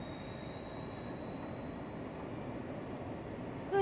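Train accelerating on the Bremerhaven-Lehe to Bremen route in Train Simulator Classic, a steady rumbling drive with a thin sustained whine over it, close and even throughout.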